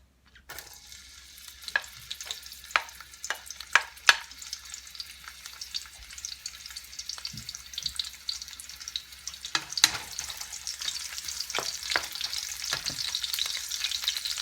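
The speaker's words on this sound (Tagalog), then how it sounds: "Pinapainit ko na yung ating oil." Olive oil heating in a pan, sizzling and crackling steadily with scattered sharp pops and spatters, close and fairly quiet, with no talk.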